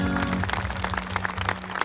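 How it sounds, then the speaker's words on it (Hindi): A church prayer-meeting congregation claps loudly for God, a dense burst of handclaps running over a low sustained musical drone for a couple of seconds. "ताली बजाएं परमेश्वर के लिए, जोर से ताली बजाएं।"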